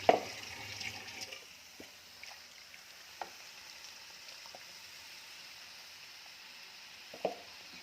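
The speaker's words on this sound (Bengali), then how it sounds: "এখানে একটুখানি জল দেবো।" A little water poured into a hot pan of spiced egg masala, giving a soft continuous sizzle with faint splashing and a few light clinks, quiet and steady with no voices.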